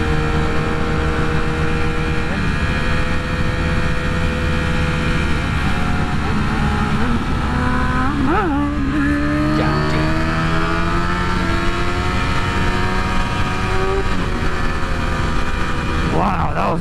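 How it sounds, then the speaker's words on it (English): A motorcycle engine revs hard through a wheelie at a Detroit motorcycle meetup, a loud, close, sustained roar whose pitch climbs and falls with the throttle, with some voices under it. "So let's take a quick look at this really dope wheelie."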